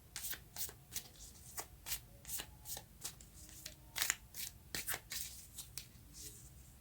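Tarot cards being shuffled by hand before drawing a clarifying card, a steady series of crisp riffling bursts close up, with no speech.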